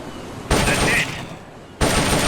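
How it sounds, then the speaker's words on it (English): Rapid bursts of M16 assault rifle fire in the video game Metal Gear Solid: Peace Walker, two loud sustained volleys separated by a short pause, close and dense. "The M16's a standard assault rifle, capable of rapid fire."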